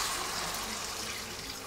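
Water poured steadily into a minestrone pot of spring vegetables, 1.5 litres going in as a continuous close rushing splash, alone with no talk.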